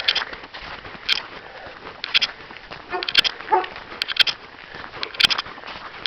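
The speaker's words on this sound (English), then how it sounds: "Really nice dog. It's a collie." A friendly collie on a small-town Canadian street gives a series of short, sharp barks and yips, spaced out across several seconds and heard from a moderate distance outdoors.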